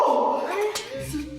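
A dog whimpers and howls briefly, close by, with a voice overlapping.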